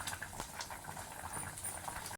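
Sambar bubbles and gurgles steadily in a pot, a soft continuous boiling with small pops, cut off abruptly at the end.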